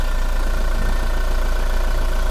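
A 2019 Toyota Hilux Revo 2.4 four-door pickup truck engine idles steadily up close with the air conditioning on, a continuous low mechanical rumble with a faint whir on top and no change in pace.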